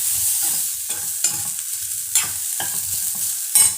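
Raw banana fry (valakkai varuval) scraped and stirred in a hot pan, a steady close sizzle broken by repeated sharp spatula scrapes, with no voices.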